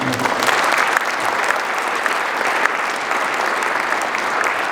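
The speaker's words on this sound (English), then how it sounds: "Let's give them a round of applause." An audience at a school speech day gives the office staff a round of applause, a thick, even wash of many hands clapping that holds steady and loud from start to finish.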